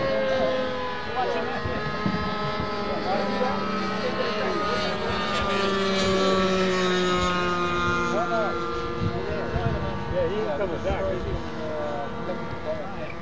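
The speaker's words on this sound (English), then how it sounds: "Can't get that airplane up." Model airplane flying at a 1999 fun fly event, its engine a steady buzzing drone with wavering pitch that runs through the whole stretch, heard outdoors with voices of a crowd talking over it.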